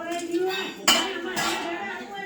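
A metal spoon clinks and rattles against dishes in a home kitchen, with two sharp clattering bursts over a ringing tone and faint background voices.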